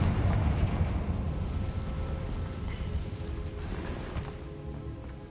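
A Confringo blasting curse goes off in Hogwarts Legacy, a low rumbling explosion that swells at the start and then fades into a steady roar with no talk over it.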